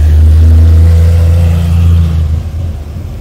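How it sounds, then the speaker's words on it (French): A Porsche engine roars past at close range, loud enough to overload the microphone, with a strong low drone that holds steady and then fades away over about three seconds. "Une Porsche, dont je vous laisse écouter le son"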